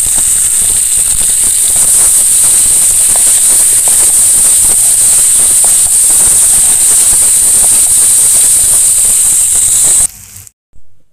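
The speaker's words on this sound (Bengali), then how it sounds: "কাঁচা পেঁয়াজ আর কাঁচা রসুন দিয়ে আমি অল্প সময়ই কষে নেব" Chicken sautés with raw onion and garlic in a pan, making a loud, steady hiss that continues unbroken for about ten seconds before cutting off abruptly.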